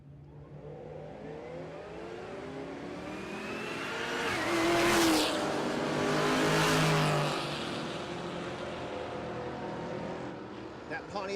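Drag race cars, including a Pontiac, launch and run down the strip at Texas Motorplex, their engines swelling from a distant rumble to a loud roaring pass with rising revs before receding.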